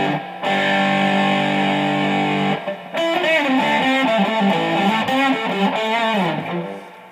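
Electric guitar played through a 1985 Proco Rat distortion pedal with distortion fully up and filter fully down: a long, thick, saturated chord, a brief break, then a run of sustained, fuzzy single notes, loud and close.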